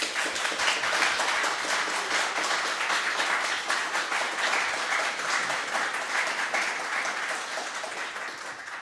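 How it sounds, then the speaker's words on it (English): A steady round of applause rings out in a conference hall, many hands clapping evenly at moderate volume for the whole stretch and easing slightly toward the end. "I want to highlight you 3, each individually, with a round of applause"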